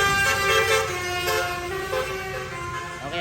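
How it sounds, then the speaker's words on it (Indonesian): Loud, steady rumble of a bus going by close up, with engine drone and hiss filling the whole stretch. "bus lewat"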